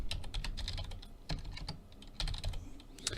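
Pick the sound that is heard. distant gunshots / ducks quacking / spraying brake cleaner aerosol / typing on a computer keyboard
typing on a computer keyboard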